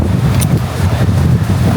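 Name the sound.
strong wind blowing on a cliffside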